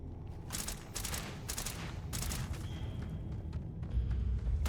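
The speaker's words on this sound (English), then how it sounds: "Oh, hey, who's shooting?" Gunfire from a Starfield firefight rings out in bursts of several rapid shots with loud sharp cracks, over a steady rumbling background.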